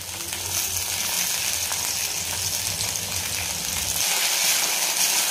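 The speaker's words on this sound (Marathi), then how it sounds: "हे बटाटे टाकल्यानंतर छान आपल्याला तेलामध्ये परतून घ्यायचे आहेत" Potato pieces fry and sauté in hot oil in a pan for sabudana khichdi, giving a steady close sizzle with a faint scraping of stirring and no talk.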